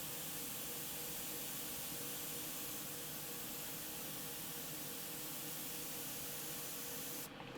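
A steady, continuous airbrush hiss of thinned AK Real Color paint spraying, close and even throughout, cutting off sharply at the very end.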